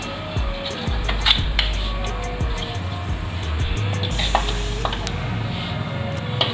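Dry fruits roast in a pan on a low flame as a spoon stirs them, producing steady scraping and light rattling with a few sharp taps against the metal, close up under a low background hum.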